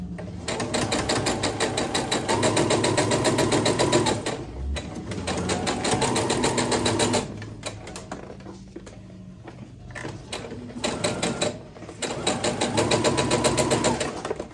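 A sewing machine stitches quilt seams in fast, even mechanical bursts, stopping briefly between seams and then starting again, close and clear with no one talking.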